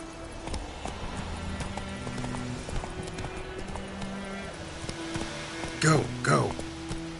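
Geralt's horse Roach galloping in The Witcher 3 video game, rhythmic hoof clip-clops running steadily under game music, with a voice speaking and a brief loud burst near the end.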